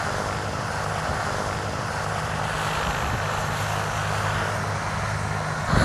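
A BK 117 helicopter sits with its jet engine running and rotor spinning, a loud, continuous turbine roar with a steady low rotor throb, close and unbroken.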